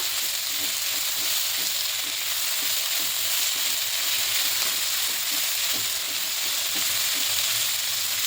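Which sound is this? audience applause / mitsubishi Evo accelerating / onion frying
onion frying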